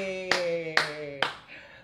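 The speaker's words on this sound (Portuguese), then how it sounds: "Palmas pra ela!" Three sharp, distinct hand claps spaced evenly about half a second apart ring over a sustained musical tone, close and clear, the last followed by a short fading tail.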